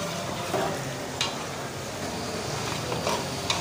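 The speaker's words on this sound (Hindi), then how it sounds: "अभी हम गोश्त को मीडियम फ्लेम के ऊपर भूनेंगे, इसका अच्छी तरह से कलर चेंज होने तक।" Mutton frying in a pot over a medium flame for a hotel-style daal gosht, giving a steady close sizzle with a few soft stirring scrapes and clinks; no voices.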